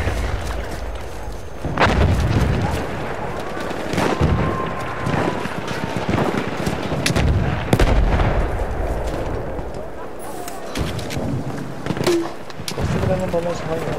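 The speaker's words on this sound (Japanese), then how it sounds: "ちょっとグレネードの祭りになっちゃうんだよね" Grenades and gunfire go off repeatedly in a Battlefield 1 match, with sharp booms and bursts scattered across a dense din of battle. A voice talks over the fighting.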